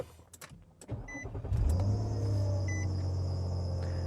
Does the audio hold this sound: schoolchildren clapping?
no